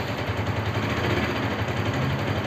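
A Bajaj RS200 motorcycle engine with a pickup problem runs at a steady idle, a close, continuous throbbing hum with even pulsing and no speech.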